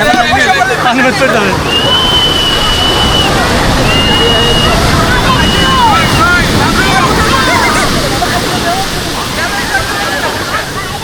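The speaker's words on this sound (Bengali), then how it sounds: "এখানে কিন্তু বিশাল বড় বড় ঢেউ" Big sea waves crash on Cox's Bazar beach in a loud, continuous roaring surf, with wind buffeting the microphone and a crowd of people talking and calling in the background.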